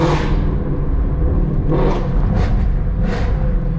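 A Ford GT350 fitted with catless midpipes roars loudly, its exhaust a thick, continuous rumble with a few rising surges.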